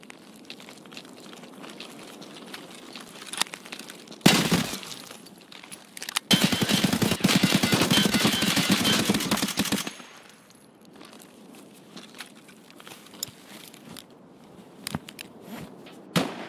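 Gunfire in the video game Escape from Tarkov: one sharp blast, then a loud, sustained automatic burst of several seconds, set against quiet ambience with scattered faint clicks and distant pops.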